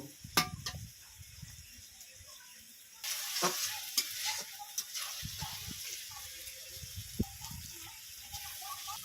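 Greens and prawns cook quietly in a pan as spices are stirred in, giving soft scattered scraping and light sizzling that grows a little louder partway through, with no voices.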